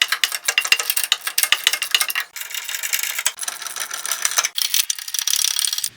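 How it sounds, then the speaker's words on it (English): Rapid ratchet wrench clicking while tightening bolts during a valve guide removal and sway bar install, a close, steady run of sharp ticks broken by brief pauses. "I'm going to need a wrench."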